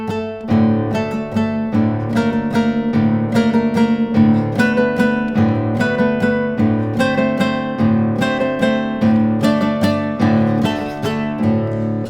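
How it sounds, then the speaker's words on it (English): A strummed acoustic guitar riff alternates chords with quick downward thumb strums across the three lowest strings, rhythmic and close, no talking. "we're simply going to add a downward strum with your thumb across the 3 lowest strings"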